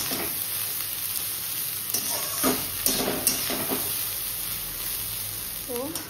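Rice frying in a pan with onion, capsicum and egg, a steady hiss of sizzling throughout with occasional scrapes and clinks of a spatula stirring, and a brief voice near the end.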